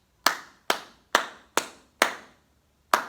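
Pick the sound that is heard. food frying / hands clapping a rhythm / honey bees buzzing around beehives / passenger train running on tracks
hands clapping a rhythm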